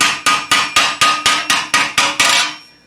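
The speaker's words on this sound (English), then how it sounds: "I'm using two different sides of this hammer." Ten evenly spaced, ringing metallic blows from the narrow side of a hammer strike an armour greave in quick succession, loud and close, the last one fading out.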